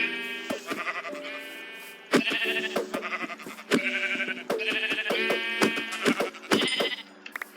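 Sheep in the video game Minecraft bleat over and over, loud and close, the quavering calls coming in quick overlapping bursts with clicking game sounds between them.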